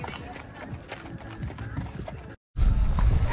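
A horse walks over a bridge during a group riding lesson at a barn, its hooves clopping in an uneven rhythm. People talk over the hoofbeats, and the sound cuts out briefly near the end.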